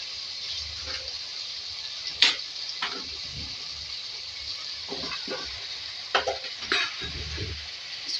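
Potatoes, eggplant and softened tomatoes sizzling in a pan for aloo baingan masala, a soft continuous fry broken by scattered scrapes and clunks of stirring, close up with no talk.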